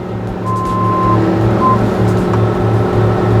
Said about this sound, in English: put the high flow hydraulic, full RPM